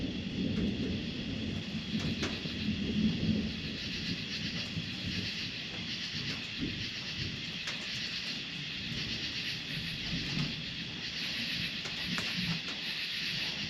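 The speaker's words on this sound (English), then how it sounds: "having the metal roof with the rain hitting it" Steady patter of small raindrops on a metal cabin roof, a dense continuous wash with occasional louder taps, no voices.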